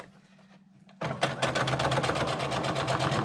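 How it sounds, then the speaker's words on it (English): After a faint low hum, a sewing machine kicks in and stitches across a fabric Velcro bag, its needle chattering in a rapid, even rhythm up close. "Put it on the sewing machine"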